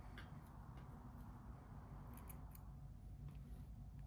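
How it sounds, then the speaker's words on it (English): Scissors snip through crochet yarn at the end of a granny square round, a soft close cut or two over steady low background hum. "and I will cut my yarn."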